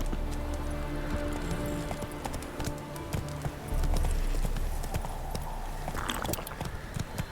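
Horse hooves clip-clop at a walking pace in The Witcher 3: Wild Hunt, with a brief louder burst of movement partway through and light background rumble.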